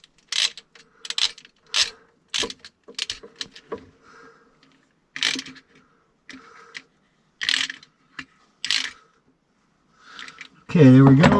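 A socket ratchet wrench tightens a breaker mount inside a shipping container power setup, bursts of quick clicking ratchet strokes repeating with short pauses, close and crisp, before a voice speaks at the end.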